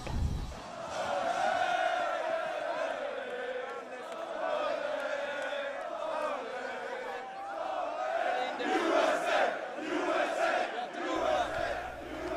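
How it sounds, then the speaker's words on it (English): Rowdy Halloween crowd on State Street in Madison chanting in unison, a loud outdoor mass of shouting voices rising and falling in waves, swelling toward the end. "The mob swelled with riotous chants"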